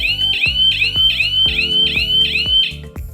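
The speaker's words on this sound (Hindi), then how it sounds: "ऑफ होते ही 2 सेकेंड के अंदर आप देख सकते हो जोर से अलार्म बजना चालू हो जाएगा" A Technode power-failure alarm blares loudly after the mains power cuts out, repeating a sharp rising electronic chirp about seven times in a steady, fast rhythm with no talking.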